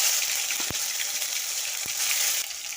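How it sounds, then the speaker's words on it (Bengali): Tomato fries in oil left over from frying fish, a steady close hiss and crackle with two brief clicks of a utensil against the pan. "ওই তেলেই আমি টমেটোটা দিয়ে দিলাম"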